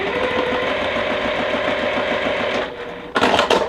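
A sewing machine runs steadily, stitching a quilt flower block from one corner to the other with a fast, even needle rhythm for nearly three seconds, then stops and gives way to brief handling noise.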